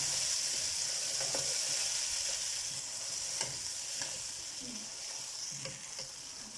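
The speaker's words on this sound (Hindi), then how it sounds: "तो चलें अब इसमें हम चिकन डालने लगे हैं, 1 पाव बगैर हड्डी के।" Small pieces of boneless chicken frying in a pan, a continuous close sizzle broken by occasional stirring scrapes and soft clicks of a utensil, with no voices.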